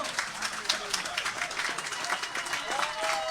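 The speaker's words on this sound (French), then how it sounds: "Acclamez le Seigneur pour le don là." Church congregation applauding and cheering, a steady wash of claps and voices at even loudness throughout, with some speech-like calls mixed in.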